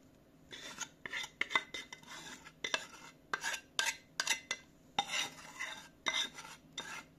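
A whisk beats sifted flour and a prepared liquid mixture for gingerbread in a bowl, making close, rhythmic scraping and clinking strokes in short bursts with small pauses between, and no talking.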